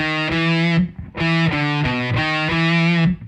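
Electric guitar with distortion plays the main riff of a song, a loud, close run of chugging notes with one brief pause and a slide back in.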